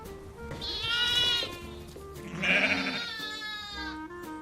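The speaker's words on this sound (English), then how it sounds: "the noise that they are making is called bleating" Lambs bleat nearby in two long, wavering cries, one after the other, with quieter bleats around them.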